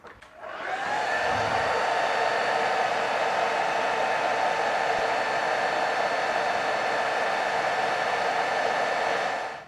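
A hair dryer blows on pigment weathering on a model building, switching on and holding a loud, steady close whoosh for about nine seconds before cutting off.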